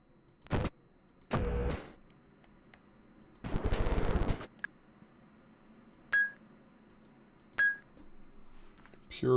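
A pure electronic beep tone in the video game Myst, sounding twice as short, clean, moderately loud chirps separated by a pause, following a few louder broadband mechanical bursts and quiet ambience.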